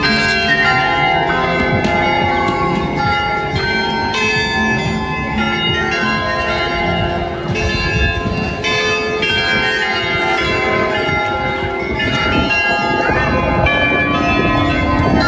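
Church bells peal continuously and loudly, several bells overlapping in a rich, ringing clang that fills the whole stretch without pause.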